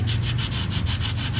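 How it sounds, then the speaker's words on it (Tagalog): A Shimano mountain bike disc brake rotor is sanded by hand in quick back-and-forth strokes, a close, rhythmic rasping scrub repeating about five times a second. "Lilihain lang natin ng ganyan."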